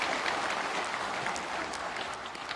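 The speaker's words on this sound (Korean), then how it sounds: "박수로 맞이해 주시죠." Applause from an audience welcoming guests at the start of a resolution rally for Vietnam War veterans, a steady wash of clapping held at an even level throughout, with no voices standing out.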